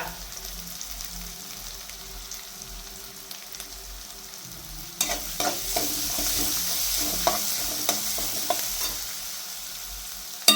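Crushed garlic and ginger with curry leaves sizzle steadily in hot frying oil for a home-style Kerala curry, with a crackling hiss that grows louder and busier partway through as stirring adds scraping clinks.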